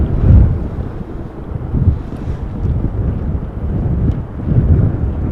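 Steady low wind buffeting on an outdoor microphone at Amsterdam Schiphol Airport during a storm, a continuous rumbling roar with gusts swelling and easing, with no voices.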